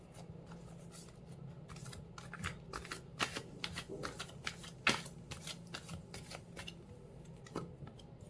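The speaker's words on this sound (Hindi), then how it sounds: "तो अभी मैं सिर्फ कार्ड निकाल लेता हूँ" Tarot cards being shuffled and drawn by hand, heard close up as a steady run of soft papery flicks and riffles with a few sharper snaps, alone with no talking.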